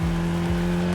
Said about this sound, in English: her car hurtled down the track with precision